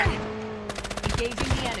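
Rapid automatic gunfire in a squad-based shooter video game, a fast rattling burst of close shots over a steady hum, with a player talking during the bursts.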